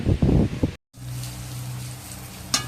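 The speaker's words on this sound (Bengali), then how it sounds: "তো ওদিকে আমার উচ্ছে ভাজা হচ্ছে" Bitter gourd fries in a pan. After a brief burst of voice, a steady, soft sizzling hiss runs over a low hum, ending with a short louder crackle.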